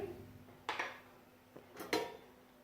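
A metal lid set onto a pot of tarka moong dal, two sharp clinks followed by two lighter knocks, close by and alone in a quiet kitchen.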